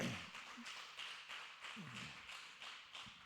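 A church congregation claps in a steady, rhythmic pulse, faint and somewhat distant, the claps repeating at an even beat through the whole stretch without any talking.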